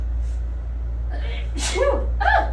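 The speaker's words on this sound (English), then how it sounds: "Oh, I gotta sneeze." A building breathy intake followed by a loud sneeze and a short second burst, over a low steady hum.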